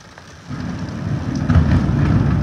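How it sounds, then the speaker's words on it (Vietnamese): A heavy downpour over Hanoi during a thunderstorm, with a loud low rumble of thunder swelling and rolling beneath the steady rush of rain. "mưa to hơn cả lúc nãy luôn"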